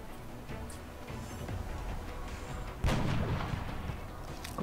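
A soldier's weapon fires in the strategy game XCOM Long War, a single sharp blast landing midway over a low, rumbling game soundscape.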